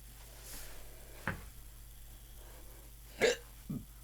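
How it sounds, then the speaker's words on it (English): Short, abrupt burps from acid reflux, a faint one followed by a louder, throaty one and a small trailing one, close and isolated against a quiet room with no talk. "I just keep getting like really bad acid reflux burps today."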